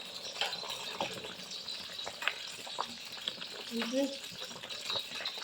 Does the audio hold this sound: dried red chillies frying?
yes